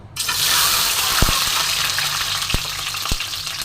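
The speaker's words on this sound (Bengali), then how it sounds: "তো এবার আমি যে সিদ্ধ করে রাখা চারটে ডিম আমি এর মধ্যে তেলের মধ্যে ছেড়ে দেবো" Four boiled eggs drop into very hot mustard oil and set off a loud, continuous frying sizzle, broken by a few sharp pops and clicks.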